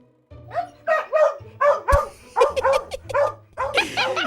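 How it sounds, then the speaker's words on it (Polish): A dog barks and yips in a quick series of about nine sharp, close bursts, loud and evenly spaced over a low steady hum. "On, on szczeka"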